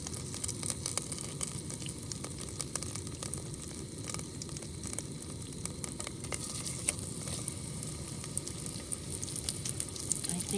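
Chicken patties fry in a pan, giving a continuous close crackling sizzle with scattered pops for about ten seconds and no voices.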